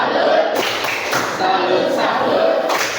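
A classroom of pupils performing the patterned "tepuk salut" clapping chant, rhythmic bursts of clapping and thuds in short groups, close and fairly loud, mixed with children's voices.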